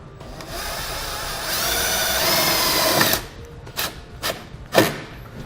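A power drill with a 1/4-inch socket drives a self-tapping screw into the back wall of a 2013 Infiniti JX, giving a steady whir for about three seconds, then a few short bursts and thumps close by.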